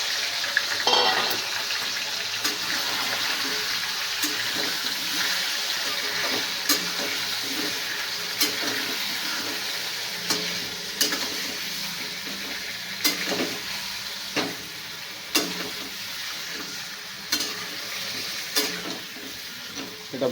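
Chicken frying in oil in a pan, a steady continuous sizzle throughout with sharp periodic clicks and scrapes of a utensil stirring against the pan.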